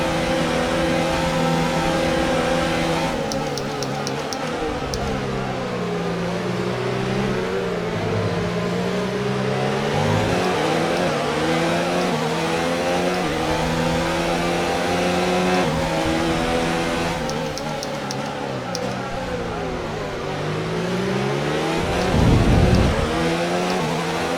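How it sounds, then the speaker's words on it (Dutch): A Formula One race car engine roars in the F1 2019 racing game. It sustains a loud, high-revving whine that keeps sweeping up and down in pitch through gear changes, heard alone without talk. "ik hoor Bottas dichterbij komen"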